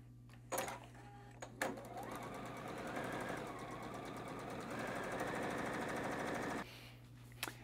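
A sewing machine runs one continuous stretch of stitching along a long quilt seam, a fast, even mechanical whir lasting several seconds, with a few brief clicks before and after.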